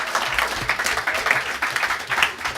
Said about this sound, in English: Give them a big round of applause, brothers and sisters.